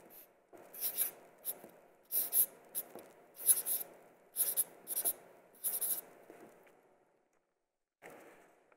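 A word written by hand, the pen or marker scratching in a series of short strokes with small gaps, then a pause and one final stroke, close and quiet with no talking.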